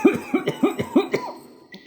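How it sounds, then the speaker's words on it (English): Someone coughs in a rapid fit, five or six harsh, close coughs in quick rhythm, then trailing off into a brief throat sound, with no talking. "How long have you had that cough?"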